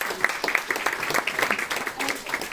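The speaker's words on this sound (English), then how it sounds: "Can we give a round of applause?" Audience applause following a talk at a teen AI hackathon, a steady patter of many hands clapping throughout, moderately loud with faint voices mixed in.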